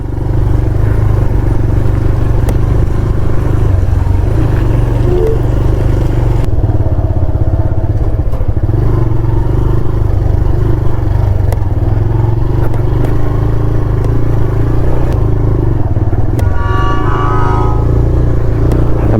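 A TVS motorcycle rides in first gear along a rough, slippery road, its engine droning low and steady throughout with rattling and clatter from the bumpy surface.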